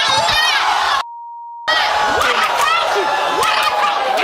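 A flat, steady electronic tone about half a second long, a lie detector buzzer effect, cuts abruptly into loud, lively crowd-like noise and voices, which resume right after it.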